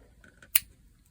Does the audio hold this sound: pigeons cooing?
no